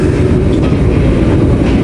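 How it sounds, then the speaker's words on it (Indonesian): Ranggajati executive passenger train from Jember to Yogyakarta heard from inside a carriage: a steady, loud rumble of wheels on track with a constant dense roar and no talk. "perjalanan Jember Yogyakarta menggunakan kereta eksekutif"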